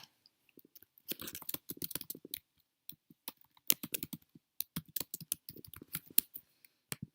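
Quiet, close typing on a computer keyboard in irregular bursts of soft clicks broken by short pauses, with no talk over it.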